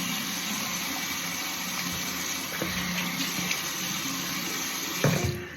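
Tap water runs steadily into a sink for face washing, a continuous close gush with a brief splash and clatter near the end.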